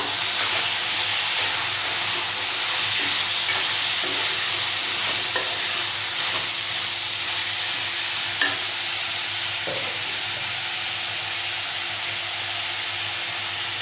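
Chopped brinjal, potato and drumsticks hiss and sizzle steadily in a hot frying pan, with occasional scrapes and taps from stirring breaking through the constant loud fry.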